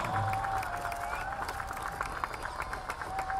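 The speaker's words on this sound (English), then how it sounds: "Keep the claps on." A stadium audience at the CISF Oorja 2017 football tournament ceremony claps continuously in a dense, steady wash of applause, with faint tonal sounds and some crowd noise underneath.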